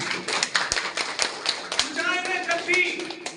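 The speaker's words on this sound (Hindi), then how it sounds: "इसके लिए जोरदार तालियां" A crowd claps at a teacher farewell and honour ceremony, with scattered sharp claps and taps under ongoing speech.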